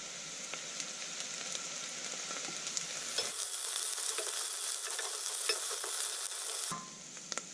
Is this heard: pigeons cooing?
no